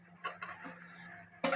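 Cauliflower florets tipped into a pan of vegetarian curry-style roast and stirred, giving a few clattering knocks and scrapes of utensil against metal, with a louder clatter near the end over a faint sizzle.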